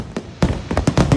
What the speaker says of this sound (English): here's a clip of our recent fireworks show at the resort.